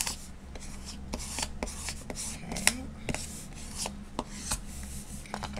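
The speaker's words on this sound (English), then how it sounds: "we're gonna just burnish all of this down really good" Tape being burnished down onto a paper craft cover, heard as quiet, close rubbing and scraping strokes in an irregular rhythm, with no talking.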